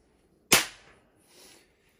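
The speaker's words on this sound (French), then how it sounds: "Je tire à vide." Artemis Tytan B5 air rifle dry-fired with no pellet, giving one sharp, loud snap followed by a short fading rattle and a faint mechanical shuffle about a second later.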